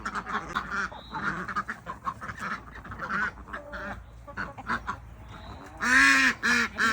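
Ducks quack and honk on a farm in the USA raising chickens and ducks, repeated nearby calls in uneven bursts, with a loud cluster of quacks near the end.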